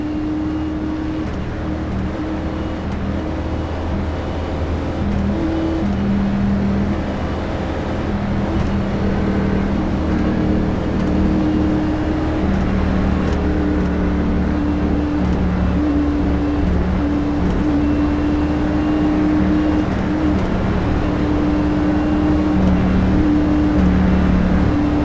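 Stock-car engines on a K&N Pro Series race at Talladega, a continuous loud roar with steady droning harmonics holding throughout, heard from a spotter's vantage with no talk over it.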